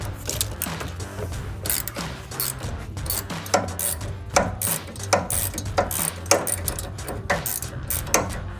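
A wrench works loose a bolt on a Silverado 1500 front sway bar, giving a close run of sharp, repeated metallic clicks and ratcheting taps in an uneven rhythm, with no talk.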